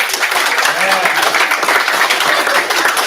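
An audience at a city council meeting applauds the coaches, a brief round of dense clapping with voices mixed in.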